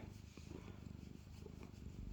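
Maniek, a rescued pet cat, purrs steadily and close up, a soft continuous rumbling pulse that carries on alone without pause for about two seconds.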